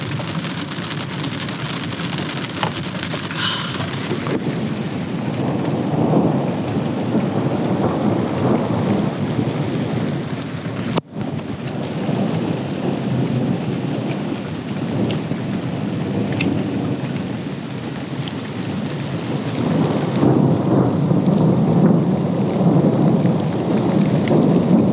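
Heavy storm over a camper in the Black Hills, with dense rain drumming on the roof and rumbling thunder rolling throughout, one sharp crack near the middle, loud and close with no talking.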